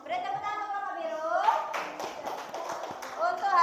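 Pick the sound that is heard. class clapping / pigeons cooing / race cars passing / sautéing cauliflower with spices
class clapping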